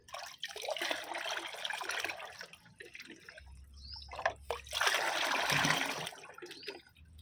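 Water is poured onto flowering plants such as hibiscus, roses and jasmine, making two long close bursts of splashing and trickling separated by quieter dripping.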